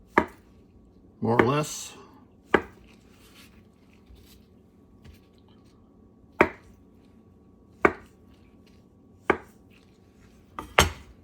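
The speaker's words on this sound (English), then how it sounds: "I'm going to slice this into little squares" A knife cutting pressed, dried tofu into little squares on a board: a quick burst of chopping followed by separate sharp thuds spaced a second or so apart, close and clear, with a brief spoken remark.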